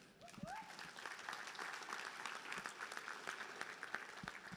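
A chamber of commerce breakfast audience applauds a campground being welcomed to the chamber, steady clapping filling the room for several seconds at a moderate distance.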